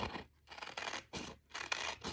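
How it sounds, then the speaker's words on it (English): Scissors snip through paper while cutting out a heart shape, five or six short crisp cutting strokes in an uneven rhythm, close and quiet with brief pauses between them. "From here, I'm going to cut it out with my scissors"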